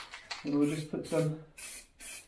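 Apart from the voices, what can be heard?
spray paint marking a cable plate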